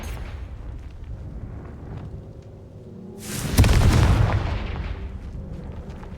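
A Confringo fire spell explodes in the video game Hogwarts Legacy, a single loud, close booming blast that swells and then rolls off over a low continuous game rumble.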